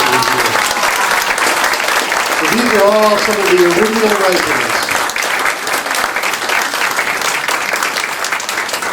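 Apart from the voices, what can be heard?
audience applause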